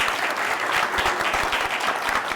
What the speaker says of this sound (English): Another round of applause for our musicians.